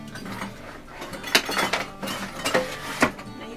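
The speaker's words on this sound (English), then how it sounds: "And I'm going to stir it until smooth. Alright. Now I'm going to use my spoon" Metal spoon clinking against a bowl while stirring chocolate melted in the microwave for one minute, several sharp taps spaced irregularly over a soft background, close and moderately loud.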